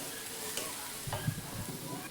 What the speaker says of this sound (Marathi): आता हे मसाले व्यवस्थित छान परतून घेऊयात।